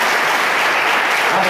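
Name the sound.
congregation applause in church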